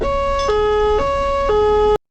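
An ambulance siren on a street in Indonesia plays a loud, close two-tone wail that alternates steadily about every half second, then cuts off abruptly.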